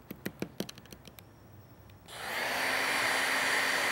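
A heat tool blasting hot air at a craft tag, preceded by a few light taps and clicks, then a steady loud whooshing roar that starts abruptly and holds.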